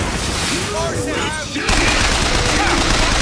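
Gunshots in a video game, a dense loud wash of rapid fire with a sudden surge partway through and a voice talking underneath.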